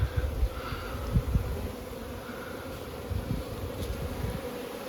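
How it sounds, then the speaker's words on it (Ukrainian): Honeybees fly around apiary hives on a warming day, a continuous close buzzing drone with soft wingbeat swells and no voices. "Бджоли повилітали, стіночки вулики прогріваються."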